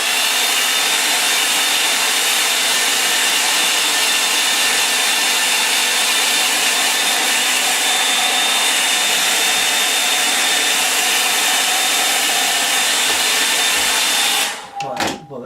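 A hair dryer blows steadily and loudly up close as it dries paint on a landscape painting, a continuous whooshing roar that cuts off near the end.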